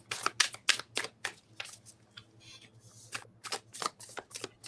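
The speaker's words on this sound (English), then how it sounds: "I love this deck. Like shuffling it." A tarot card deck being shuffled up close, with a run of crisp riffling bursts in quick succession, a short pause, then more riffles, alone without talk.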